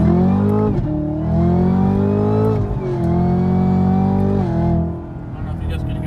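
A 2018 Camaro ZL1 with a newly installed intake revs hard several times, its engine note sweeping up and down with a strong whine. The sound is loud and close, and it drops off near the end.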